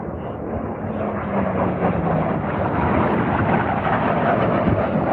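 A jet aircraft racing the Unlimited and Jet course at the Reno Air Races gives off a steady, broad roaring rush that swells slightly, heard from a distance outdoors with wind noise.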